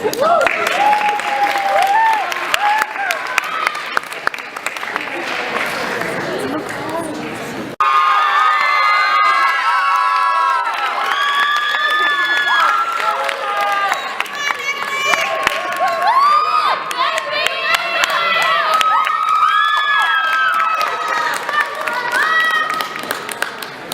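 At a school choir and theatre awards event, a lively audience of children cheers and shouts with bursts of clapping. Excited voices overlap loudly throughout, with a brief lull before the noise swells again.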